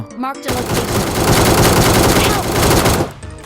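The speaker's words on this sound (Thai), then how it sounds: "โอ้ตรง นั้น ก็ ยิง กัน อยู่" Dense, rapid automatic gunfire from AK-type rifles in the PUBG Mobile battle royale game, a loud sustained burst of shots running for about two and a half seconds before cutting off.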